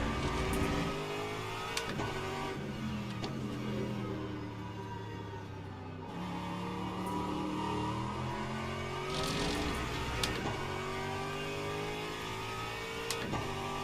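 GT3 race cars lap the Fuji circuit in the Le Mans Ultimate racing game, with a steady engine drone rising and falling through gear changes and revs, several cars audible together at moderate level, without talk.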